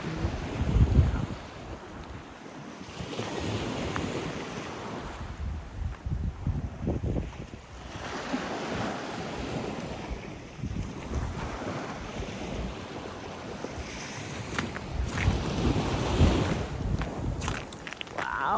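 Sea waves break and wash on a Kattegat beach in northern Denmark, the surf swelling and receding under heavy wind buffeting the microphone, with no talking.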